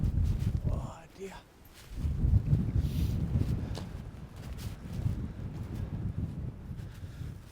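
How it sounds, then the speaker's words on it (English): Gusty wind buffets the microphone outdoors on an exposed coastal headland, a steady low roar with a brief lull near the start, while a voice speaks faintly at times. "It's a bit blowy."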